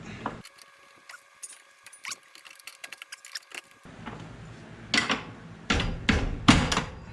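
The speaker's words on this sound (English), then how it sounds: "I gotta bend the sheet metal in order to get this bolt out. So basically you just take a pry bar, kind of bend it in a little bit." A pry bar bends sheet metal on a 2019 Toyota Tacoma during a Rough Country 3.5-inch suspension lift install. Scattered light metallic clinks and taps come first, then louder close creaks and bangs near the end, with no talking.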